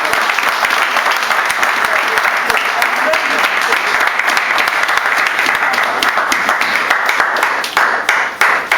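A church congregation applauds during an evening sermon, with steady, dense clapping and cheering that carries loudly and continuously throughout.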